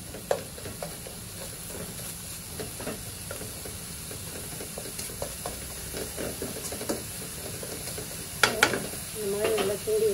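A spoon stirring beetroot poriyal in a pan, a soft continuous sizzle under repeated scraping and tapping strokes, with a few louder clatters near the end.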